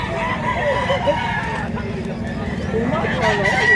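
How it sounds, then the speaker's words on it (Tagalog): Roosters and fowl at a Cebu market in the Philippines, crowing and clucking amid a busy outdoor murmur, with someone talking throughout. "Gwapo manok."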